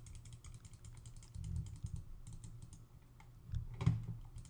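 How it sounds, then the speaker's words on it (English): Rapid computer mouse clicks and keyboard tapping while working in MSC Nastran and Patran engineering software, a run of close, light plastic clicks with a louder cluster near the end, no talking. "I've accidentally double clicked there too fast"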